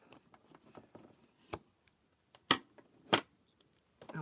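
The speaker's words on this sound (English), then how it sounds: "I'm going to come in and cut my rope." Scissors cut through a rope of woven fabric strips, giving three crisp, close snips spaced about a second apart, with faint handling rustle between them.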